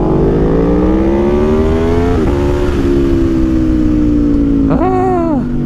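A 2021 Aprilia Tuono V4 with an aftermarket exhaust revs up loud and close, its engine pitch climbing steadily, then it blips sharply a few times with a short rise and fall.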